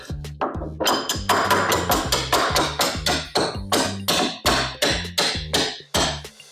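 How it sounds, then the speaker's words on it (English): Rapid, steady metallic hammer blows driving copper tube through limber holes in boat stringers, about a dozen strikes close by, each ringing briefly before the next. "Hammer it through the limber holes that I made at the bottom."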